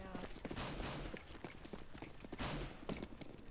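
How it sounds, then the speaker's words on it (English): Bursts of gunfire crackle in a CS:GO match, rapid distant-to-mid shots and rattling volleys mixed with footsteps, fairly faint and continuous over the short stretch. "Who's shooting?"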